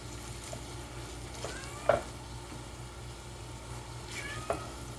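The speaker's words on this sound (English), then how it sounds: "my kitty is in the background meowing" A cat meows twice, a short cry and then another a few seconds later, heard over the steady sizzle of fried rice frying in a pan.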